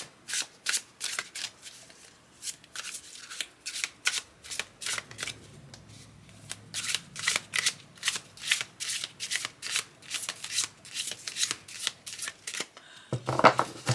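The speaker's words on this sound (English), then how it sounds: "10 shuffles is a really good shuffle for getting a good mix of cards" An Aquarian tarot deck being riffled and shuffled in quick, repeated bursts, crisp and close, with a brief pause midway and no talking.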